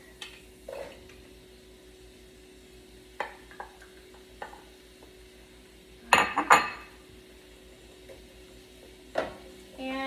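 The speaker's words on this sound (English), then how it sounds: "I'm going to add my sliced mushrooms" Sliced mushrooms going into a pan of onions over medium-low heat while making pasta sauce, heard as a few soft clinks and a couple of louder scraping stirs against the pan amid quiet background.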